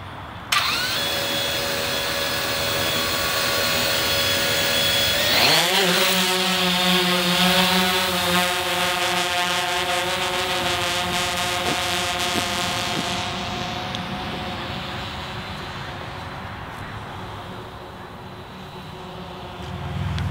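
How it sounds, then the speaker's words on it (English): A drone spins up and lifts off, its rotors rising into a loud, buzzing whine with stacked harmonic tones that shift as it climbs and flies, gradually fading somewhat as it moves away. "All right, the drone's taken off."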